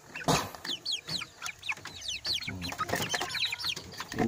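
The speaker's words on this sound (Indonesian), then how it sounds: "Ini hasil saya nyoba-nyoba disilangkan sama ayam joker, sama ayam kampung, sama ayam bangkok gitu" Joper crossbreed chickens, a cross of joper, kampung and Bangkok fowl about 40 to 45 days old, cluck and chirp repeatedly in a pen, with close, busy overlapping calls and no talking.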